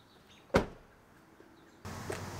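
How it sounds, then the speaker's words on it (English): A single sharp thud of a Lexus RX330 car door shutting, followed by quiet, then a low steady hum starts up. "we can close the door"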